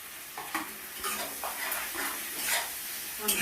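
Brinjal and cauliflower frying in oil in a pan, stirred with repeated scraping strokes over a constant sizzle, close and fairly quiet, with no talk.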